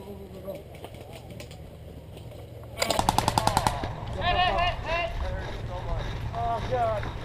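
Airsoft guns fire a rapid burst of about eight sharp, loud shots outdoors, then people talk excitedly over the noise.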